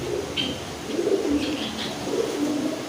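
A pet pigeon coos softly in low, rolling calls, repeated a few times close by, with faint higher chirps in the background.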